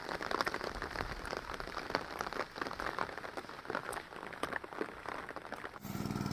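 Rain patters steadily over freshly planted paddy fields, a dense crackle of drops with occasional louder splats, ending in a brief burst of other noise.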